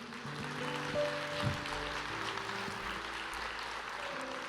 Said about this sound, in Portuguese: Glória a Deus, pode aplaudir.